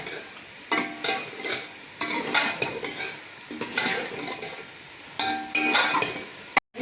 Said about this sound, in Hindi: अब इसको थोड़ी सी आग तेज करके 4 से 5 मिनट के लिए इसकी बुनाई करते हैं